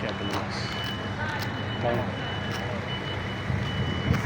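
A shuttle bus at Livorno's cruise port sounds repeated reversing beeps amid vehicle noise and wind, with people talking nearby.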